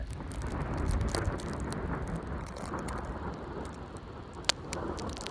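A Nor'easter thunderstorm outdoors, with steady heavy rain hiss and wind filling the scene, plus a sharp crack near the end as lightning strikes; no talking.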